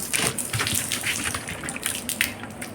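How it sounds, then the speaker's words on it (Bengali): Water splashing and rinsing for a short stretch after a meal of lentils and rice, a steady close gushing wash with small splashes and drips, no voices. "এখানটা একটু জল দিয়ে ধুয়ে দিই"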